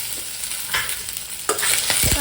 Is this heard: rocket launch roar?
no